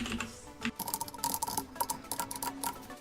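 Rapid, uneven keystrokes on a computer keyboard while Python code is typed, close and clear, with short bursts and brief pauses and no one talking.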